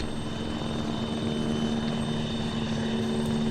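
Helicopter in the military video game ArmA landing to drop troops, a loud, steady rotor and engine drone with a constant low whine that holds unbroken throughout, with no talk.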